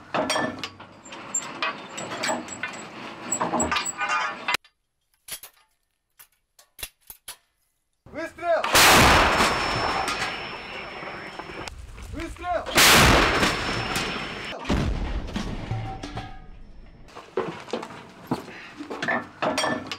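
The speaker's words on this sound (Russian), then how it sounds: "Выстрел!" Loud artillery blasts boom twice, each followed by a long rolling roar, with metallic clanks and handling noise between the shots.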